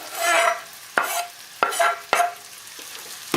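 Garlic sizzles in a pan over high heat, a bright hiss that rises and dips while a spoon clacks against the metal several times as it is stirred.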